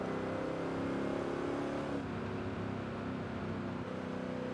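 Exhaust of a supercharged Honda S2000 with simple bolt-on mods, a steady, dense engine drone that holds near and fairly loud throughout, easing slightly after the midpoint, with no voices.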